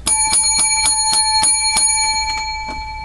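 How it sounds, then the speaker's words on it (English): Seven bright bell strikes ring out in a steady, evenly spaced sequence at the opening of a talk show, each chime clear and close with sustained metallic overtones, the last few fading slightly, with no voices. "Seven lucky bells for our show"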